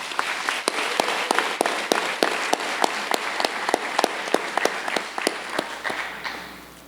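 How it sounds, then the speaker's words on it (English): An audience claps at a school graduation ceremony, a steady run of sharp, dense applause that fades out toward the end, with no talk over it. "Please join me in giving them another round of applause."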